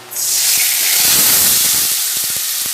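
Pointed gourd (patol) paste drops into hot onion-flavored oil tempered with nigella seeds on a high gas flame. A loud hiss bursts in suddenly and holds, with soft scraping taps toward the end.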